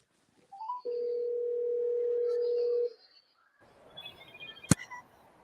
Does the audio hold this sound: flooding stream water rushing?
no